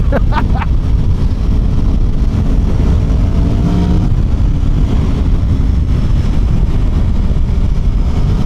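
An Aprilia Tuono V4 motorcycle ridden on a freeway: a steady engine drone, rising briefly at the start, sits under loud, continuous wind rush for the whole stretch, with no talking.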